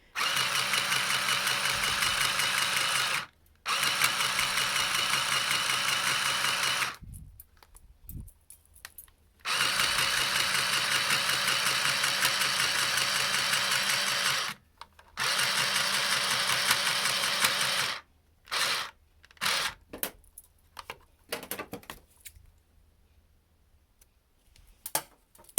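A handheld DIY sewing machine stitching a side seam in fabric, a loud steady buzzing whir that runs in long bursts separated by abrupt silences, then breaks into shorter stop-start spurts near the end.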